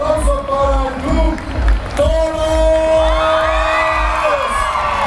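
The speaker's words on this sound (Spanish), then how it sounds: "el aplauso para el Club" Crowd cheering, whoops and clapping greet a club team at a football league's spring opening parade, loud and lively, with children's shouts, whistles and an announcer's voice mixed in over a thumping music beat.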